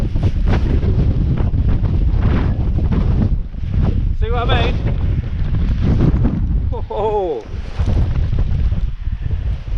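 Strong gusts batter a wild camp in wet weather, roaring wind buffeting close and loud with driving rain beneath, while someone speaks over it and exclaims.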